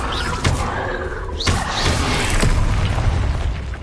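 Spell blasts from a fire-based blasting curse boom in a fantasy wizarding video game, a few sharp thuds and bursts over a steady rumble of game ambience.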